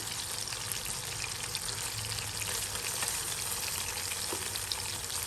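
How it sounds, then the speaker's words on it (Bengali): Pangas fish from a home pond slowly frying on low heat, a dense continuous sizzle and bubbling hiss filling the whole stretch, steady and fairly loud with no voices. "একটু লো ভলিউমে আস্তে আস্তে করে ভাজি করলে মাছগুলো সুন্দর ভাজি হবে"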